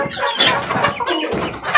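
Short, close clucking from a young rooster (stag) on a gamefowl farm, a burst of quick throaty clucks with no speech.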